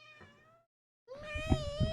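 A cat meows twice near at hand, a short fading cry followed after a pause by a longer, louder, drawn-out one with strong harmonics, while dice clatter faintly in a tray underneath.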